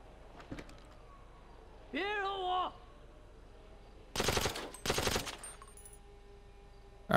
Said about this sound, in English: Some somebody was just shooting at me from over there.